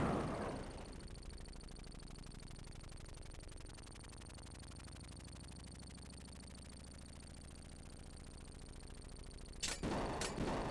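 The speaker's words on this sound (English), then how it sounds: "Oh, I'm out of everything except for regular gunfire." Steady rapid regular gunfire from a helicopter in the Sega Genesis game Desert Strike, a continuous buzzing stream of shots running for about ten seconds, with a couple of sharper bursts near the end.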